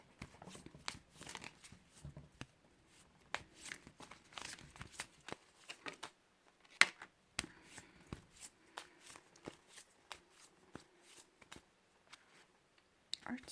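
Oracle cards shuffled in short crisp bursts of riffling and slapping, quiet and close, repeating irregularly through the stretch with pauses between.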